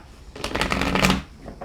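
Tarot cards being shuffled by hand during a reading, a brisk riffling burst of papery flutters that swells and fades over about a second, close and fairly loud with no talking.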